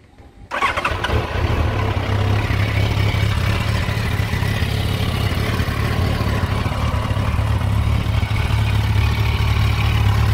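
A Yamaha FZ1 motorcycle with an aftermarket exhaust pipe starts up and settles into a steady, loud, close idle outside a factory, with no revving and no voices.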